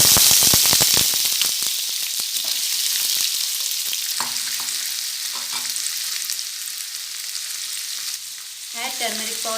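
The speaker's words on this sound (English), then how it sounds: "Now add garlic pieces. Let it fry. Now add Dondakaya." Garlic pieces and chopped ivy gourd (dondakaya) fry in an oiled pan, opening with sharp rapid spattering pops that settle into a steady sizzling hiss, with a few clinks of a spoon near the end.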